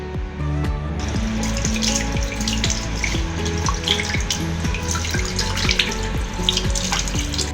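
Money plant leaves are rinsed under a running tap at a sink: a steady, close rush of water with splashing and dripping as the leaves move through the stream, continuing throughout with no talk.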